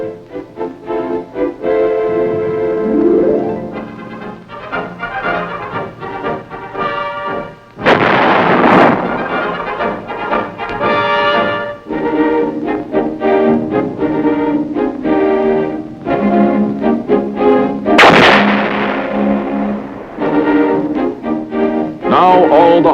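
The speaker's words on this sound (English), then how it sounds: "when the big guns go into action, providing support for the men in the field" 175 mm artillery guns fire shells in the field, two loud booming blasts about ten seconds apart under a steady bed of orchestral music.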